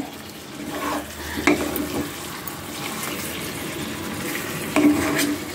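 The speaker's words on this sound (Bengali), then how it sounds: "এদিকে মাংস কষছে" Chicken meat sautéing in a pan in a home kitchen gives a steady, close hiss of frying, broken by a few sharp clinks of a utensil stirring against the pan.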